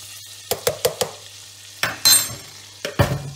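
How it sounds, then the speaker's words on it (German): Butter and flour roux (Einbrenn) cooking in a soup pot, heard as a series of sharp scraping stirs and brief sizzling bursts against a steady low hum, with no talk. "das wird jetzt eine leichte Einbrenn. Das ist nur Butter und Mehl."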